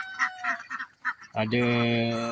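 Several egg-laying ducks in a temporary coop quack and honk close by, a choppy burst of calls followed by one longer, loud, sustained honk.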